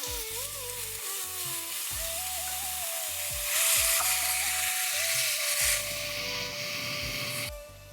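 Soaked urad dal sizzles and fries loudly in a hot pan, with a continuous crackling hiss, scraping stirs, and a fainter steady background hum.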